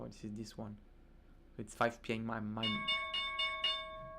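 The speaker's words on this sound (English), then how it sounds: "Opening bell of the US markets." Opening bell of the US stock market, a bright ringing bell tone with sustained harmonics that rings out clearly after someone speaks briefly.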